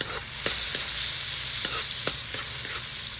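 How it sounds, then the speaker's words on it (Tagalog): Garlic sautéing in a preheated pan, a close steady sizzle with a few sharp stirring taps and scrapes. "Ang ginagawa ko kasi pag ako'y nagigisa, inuuna ko yung garlic."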